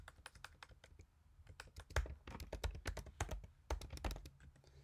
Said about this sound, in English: we're going to type in our address real fast